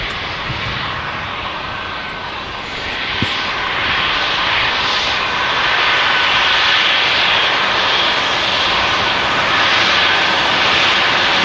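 KLM airliner jet engines at Manchester Airport, a steady, loud roar that swells slightly and holds, sounding close and continuous with no talk over it.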